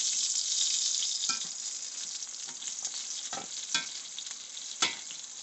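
Chicken browns in a pot for a pot roast, giving a steady close sizzle and fry hiss throughout, with a few sharp scraping stirs cutting through.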